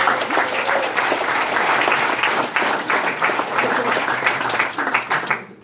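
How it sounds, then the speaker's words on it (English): A crowd at a high school football banquet breaks into lively applause, dense clapping rolling on steadily with slight swells before thinning out near the end. "Give her a round of applause."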